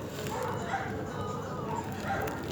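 A dog gives soft, muffled barks and yips at a distance behind steady background noise, with people talking nearby.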